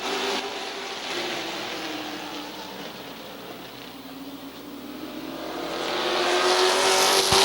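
Stock race cars roar around the oval at Midvale Speedway, engines droning from a distance, then swelling louder as the pack sweeps closer toward the end.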